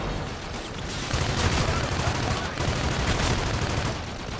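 Gunfire from the video game Call of Duty Infinite Warfare, played on PS4, comes as a loud, dense stretch of shots and crackling blasts. It thickens after the first second and runs steadily to the end.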